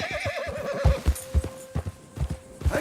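A mare neighs in a wavering whinny while her hooves clip-clop in an uneven rhythm close by, with short thuds continuing after the call fades.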